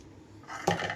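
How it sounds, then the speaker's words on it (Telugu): Cooked dal with drumstick leaves, tamarind and chili powder is mashed in a pot with a wooden masher, giving a short burst of soft clattering and scraping against the pot, close and brief, with no talk. "పప్పు గుత్తితో మెదిపేసుకుంటున్నాను మొత్తం."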